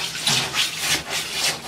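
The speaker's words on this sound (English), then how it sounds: "We're just gonna put enough water that there's a few inches of water over top of the salt." Water from a garden hose runs into a water softener brine tank over the salt, a steady broadband splashing rush in surging waves, close and fairly loud with no talk.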